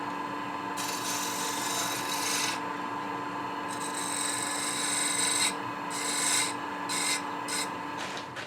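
Steady rasping scrape of a skew chisel laid on its side against spinning wood on a lathe, taking fine shavings, with a constant motor hum underneath and brief bursts of finer scraping.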